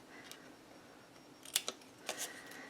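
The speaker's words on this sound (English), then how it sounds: "let's go ahead and snip in from the side" Scissors snip in from the side of paper while a holiday mini album is made with Heartfelt Creations patterned paper: a few quiet, crisp cuts close together near the end, with no talking.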